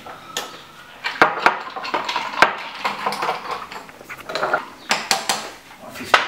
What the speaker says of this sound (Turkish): Hafif karıştırdık.